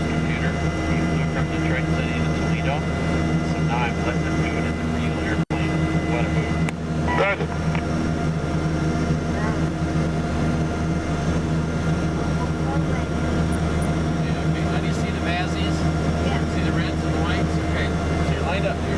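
Steady aircraft engine drone from a flight simulator video game, a continuous loud hum with layered tones filling the whole stretch alongside faint background voices and a brief click near the middle.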